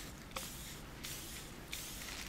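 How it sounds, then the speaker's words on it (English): Spray paint hissing onto a model car frame, an AMT 1977 Ford kit, in three short close bursts separated by brief pauses. "So I'm going to spray downward in one direction."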